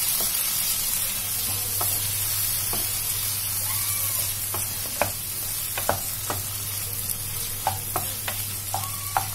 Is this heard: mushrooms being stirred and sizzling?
yes